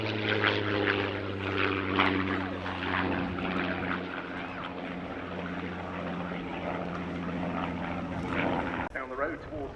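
Propeller aircraft engines drone steadily overhead at the Duxford airshow, including a Douglas R4D and a Supermarine Spitfire XIV, a loud continuous roar under commentary that changes abruptly near the end.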